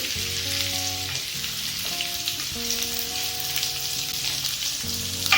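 Onions and curry leaves frying in oil for eggplant and chickpea kurma, a steady close sizzle throughout with soft tones underneath and no talking.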